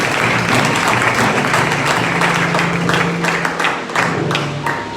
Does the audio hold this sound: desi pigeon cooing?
no